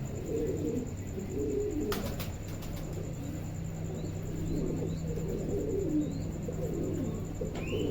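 Soft, low pigeon coos repeat in a steady murmur from a loft with nesting young, with a few brief chirps and light taps over a constant background hum.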